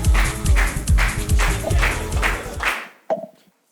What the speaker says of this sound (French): Applaudissez Gabi Kamel, s'il vous plaît.